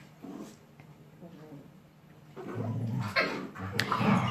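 Pet dogs at home making yips and whimpering barks, moderately close, with activity growing louder toward the end and a voice-like murmur mixed in.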